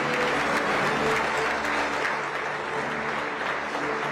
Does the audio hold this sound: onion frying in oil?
no